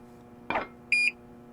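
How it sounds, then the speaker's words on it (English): A key card reader unlocks a door in the video game Deadly Premonition Origins with a single short, clear electronic beep, just after a brief, softer burst of noise. "Beep."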